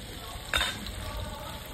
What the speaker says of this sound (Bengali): লাল করে ভাজবো, ঠিক আছে?